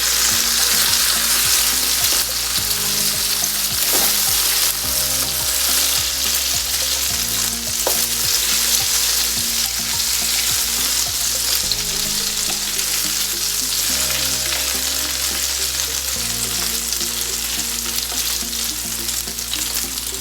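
Continuous loud sizzling of an eggplant omelette frying in a pan after being flipped, a steady dense crackle with no voices.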